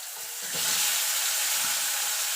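Cut eggplant pieces hitting hot oil with black cumin seeds for neem begun, a steady close sizzle and hiss that swells after the first half second and stays broad and even, with faint stirring thumps underneath.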